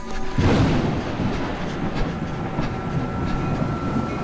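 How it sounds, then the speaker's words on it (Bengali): A train runs on rails with a continuous rumbling roll and faint rhythmic clacks, heard close and steady throughout as an eerie horror-story sound effect. "ট্রেনের কামরায় বসে"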